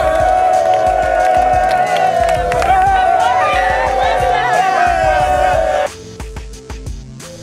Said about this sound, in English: the crowd went wild, celebrating the amount that was raised from the walk